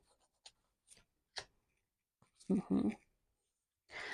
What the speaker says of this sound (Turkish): Hemen büyücünün üstüne bir kart daha çekeceğim